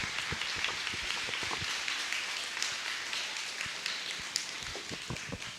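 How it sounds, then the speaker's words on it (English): Audience applause, steady clapping from a crowd filling the whole span at moderate level, individual claps audible within a dense patter. "let's give Mr. Abney a big round of applause from Pell"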